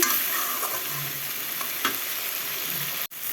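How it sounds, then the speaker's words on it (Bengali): Spices including cumin paste are stir-fried in a pan with a steady, close sizzle and occasional spatula scrapes, ending in a brief sharp break near the end. "এখন এটা ভালো করে কষিয়ে নিব মশলাগুলো"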